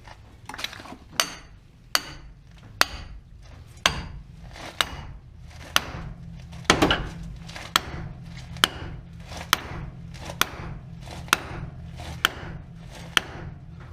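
A hammer strikes a bolt again and again to knock a tie rod loose on a Dodge Caravan, producing sharp metallic bangs about every second or less, with one heavier blow near the middle, over a low background hum.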